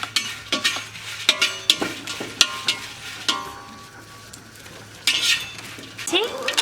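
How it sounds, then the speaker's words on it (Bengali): Chilies fry in a pan with a soft sizzle under repeated sharp clinks and scrapes of a metal utensil against the pan, close and irregular, with a faint voice now and then. "আমি মরিচ ভেজে নিচ্ছি।"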